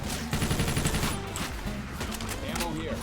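Rapid gunfire from a firefight in Left 4 Dead 2, a dense stream of shots under excited talking from players throughout.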